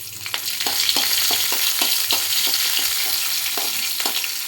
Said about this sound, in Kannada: ಸ್ವಲ್ಪ ಕರಿಬೇವು, ನಂತರ ಸ್ವಲ್ಪ ಮೆಣಸಿನಕಾಯಿ ಸ್ವಲ್ಪ ಹುರಿಬೇಕು